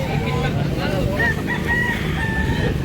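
A rooster crows loudly and repeatedly at a busy chicken market in Danao, Cebu, with clucking fowl and a crowd murmuring all around.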